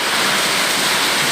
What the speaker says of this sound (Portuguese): Gente, aqui é vento.